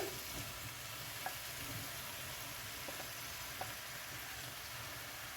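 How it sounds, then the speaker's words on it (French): Mushrooms sauté quietly in a pan, a soft continuous crackle with a few light scrapes of stirring now and then. "Et je vais mettre les champignons. Juste les faire revenir un petit peu."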